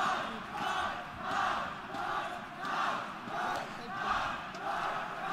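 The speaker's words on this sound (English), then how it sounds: "I feel like the crowd are favoring Cloud9 generally." Arena crowd at the ESL One Cologne 2017 CS:GO grand final between Cloud9 and SK on Cobblestone, chanting in loud rhythmic waves that swell and fade about once every second and a half, continuous throughout.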